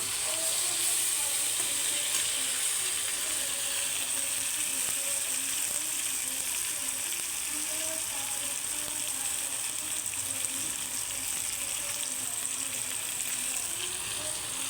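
A pan of potatoes, onions and a ground paste of ginger, cumin, onion, tomato and garlic fries with a soft, continuous sizzle and crackle, steady and fairly faint throughout, with no talking.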